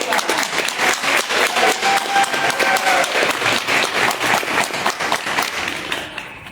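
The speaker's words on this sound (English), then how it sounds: "Let's take a round of applause." A large audience at a township annual meeting breaks into dense, sustained applause just after a color guard is dismissed, the clapping staying full and steady before thinning out in the final second.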